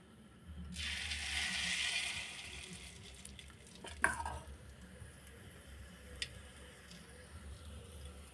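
Egg batter for sweet egg malpua hits hot oil with a bright, steady sizzle that swells quickly then settles into a softer frying hiss, with a few small pops and clinks.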